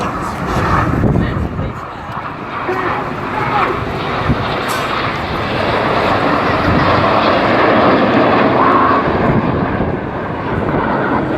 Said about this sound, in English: The inside pilots pitch up to the outside as they fly the rollbacks.